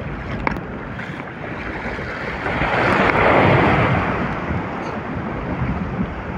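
Big ocean waves and wind out on the water during a fishing trip, a broad roaring wash of surf and gusts that swells in the middle and then eases back to a steady rush, with no voices.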